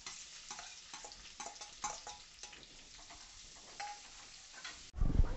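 Onion goes into hot oil with cumin, garlic and green chilli for sprouted mung bean usal, giving a faint sizzle broken by light stirring taps and clicks, and a louder clatter at the very end.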